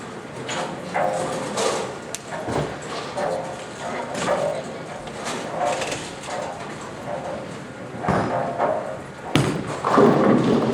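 At a bowling alley, balls thud down the lane and crash into the pins, with several dull thumps and a sharp clatter near the end over a murmur of background chatter.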